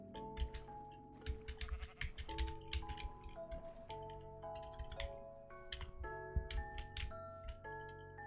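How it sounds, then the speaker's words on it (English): A sheep bleats in Minecraft, several short bleats scattered over steady background music with bright sustained tones, fairly faint and clear, with no talking. "Alright, I brought a sheep back with me."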